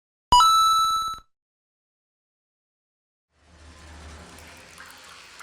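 A bright ringing chime opens, then after a pause a slaughterhouse grinder in the horror game Meat Shift starts up as a low, steady mechanical rumble mixed with harsh grinding noise.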